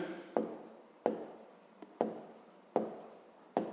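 A pen writing on paper while working a fifth-grade maths exercise, giving short scratchy strokes in bursts about every second, quiet and close, with no talk.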